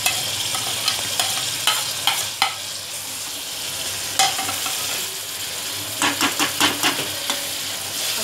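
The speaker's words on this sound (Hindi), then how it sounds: "और फिर अब हम उसमें ये चॉप्ड हरी मिर्चे और टमाटर का पेस्ट डालेंगे।" Chopped green chillies and tomato paste sizzle in a pan as a spoon stirs them. A steady frying hiss sits under regular scraping knocks of the utensil against the pan, close and moderately loud, with a brief lull midway.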